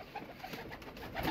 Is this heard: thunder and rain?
no